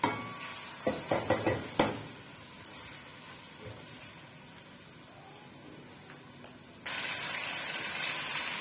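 Ginger and tomato stirred into masala for chana pulao: a flurry of spoon clatters and scrapes against the pot at first, then a quiet lull, then a steady close sizzle rising.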